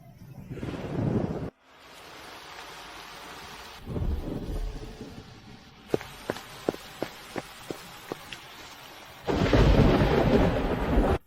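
Rain with thunder: a heavy downpour hiss at the start, a low rumble of thunder in the middle, a series of sharp knocks or footsteps, then the loud rain surges back at the end.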